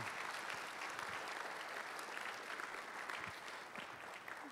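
Applause from the audience at the 2013 United States Bicycling Hall of Fame induction ceremony, a dense, even round of clapping that carries through the whole stretch, heard at a distance and fairly faint.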